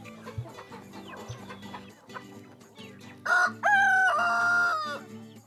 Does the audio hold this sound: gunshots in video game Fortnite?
no